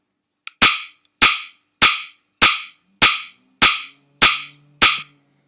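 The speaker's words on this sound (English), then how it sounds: "We've got 4 quarter notes, and again, that sounds like this" Four quarter notes in 4/4 time sound as eight evenly spaced sharp percussive hits, one per beat across two bars, each decaying quickly, with a faint sustained low tone entering under the last few.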